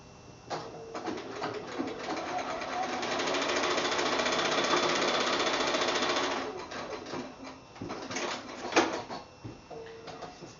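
A sewing machine stitches a quilt block seam in a steady, close mechanical whir lasting a few seconds, with clicks and handling noises of the fabric before and after.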